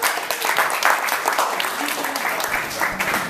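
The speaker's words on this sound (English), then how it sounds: "give yourselves a round of applause." Audience applause fills the room, a dense steady wash of many hands clapping at close range, holding loud and even throughout with no voices standing out.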